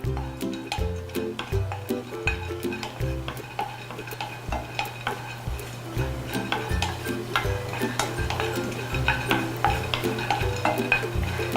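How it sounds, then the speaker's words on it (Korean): Walnuts, briefly soaked in hot water and dried, toast in a pan while a utensil stirs them, giving steady scraping and clinking strokes against the metal over a soft sizzle, close and continuous with no talking. "호두를 살짝 뜨거운 물에 살짝 담갔다가 물기 제거하시고 이렇게 팬에 아니면 오븐에 구워주시면"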